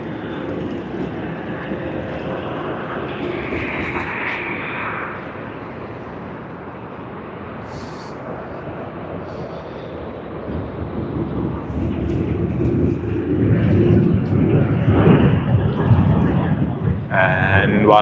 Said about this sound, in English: We have QF292 coming in from Singapore. That's on a Finnair Airbus A330.